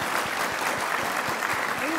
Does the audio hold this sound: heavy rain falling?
no